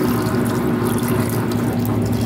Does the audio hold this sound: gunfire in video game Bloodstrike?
no